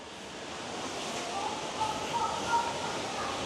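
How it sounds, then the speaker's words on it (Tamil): A steady, breathy rush of wind blows without pause, swelling slightly louder toward the end. "என்னடாப்பா காற்று அடிக்குது"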